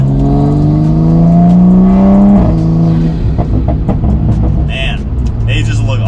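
An A90 Toyota Supra engine switched into sport mode hums steadily, then its tone drops and settles into a lower idle rumble, with a person talking over it near the end.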